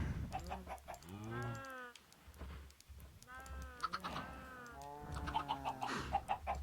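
Cartoonish Minecraft chicken clucks and bleating-like animal calls repeat over a steady low hum and game background sounds.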